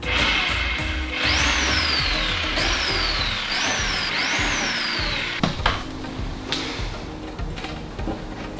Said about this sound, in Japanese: インパクトドライバーだとこの 13mm のドリルアタッチメントに入らなかったので、ハンマードリル使っていきたいと思います。